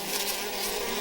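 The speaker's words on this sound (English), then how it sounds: "And all the bees in there eating." Bees buzz thickly around a hive feeder jar, a dense, steady, close drone with no gaps and no voices.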